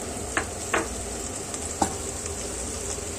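Meat with tomato paste sautéing in a pot, giving a steady low sizzle with a few short stirring scrapes and clinks of the spoon against the pot.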